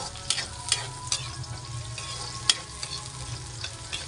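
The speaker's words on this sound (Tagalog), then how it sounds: "ilagay na ang ating sibuyas at bawang. Ayan. Siyempre, tulad ng dati, gisa-gisa pa. Gisa-gisa tayo." Onion and garlic sautéing in a pan for ginisang noodles with bihon, a steady crackling fry under a series of sharp metallic stirring clinks at irregular intervals, close by and without speech.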